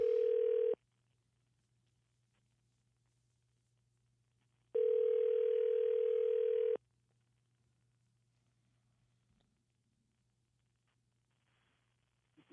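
A telephone ringback tone plays on a radio call-in show: one short steady tone, then a long silence, then a second tone lasting about two seconds, followed by another quiet stretch.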